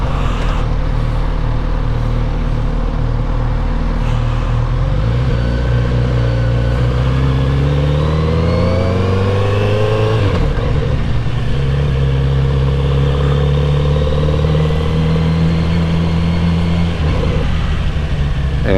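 A Kawasaki Z900RS Cafe motorcycle being ridden, its engine droning steadily and rising in pitch through the gears with loud wind rush throughout.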